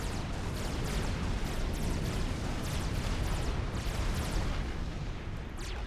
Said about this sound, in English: lobbing shells in towards the point defense